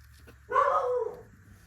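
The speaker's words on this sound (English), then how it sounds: "Ignore my dog barking. He barks at his own shadow." A single dog bark, a short nearby yelp-like sound heard alone in a quiet indoor space.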